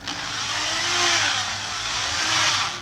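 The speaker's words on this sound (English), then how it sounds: "Turning your drill all the way down, apply your product, turn your drill to the lowest setting" A steady, high-pitched motor whine runs continuously at close range, swelling slightly in intensity, as a power drill at low speed polishes a car headlight lens.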